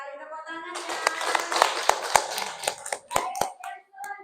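Children in a classroom clap in a quick, uneven burst of sharp hand claps, fairly close and moderately loud, with young voices chattering over them.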